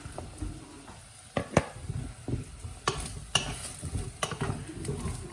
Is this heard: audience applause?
no